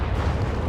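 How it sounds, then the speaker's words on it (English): A heavy mine explodes beneath Panzer IV tanks in Company of Heroes 3, a dense, booming low-end blast filling the whole brief moment without talk. "Oh, 2 Panzer IVs hit the heavy mine."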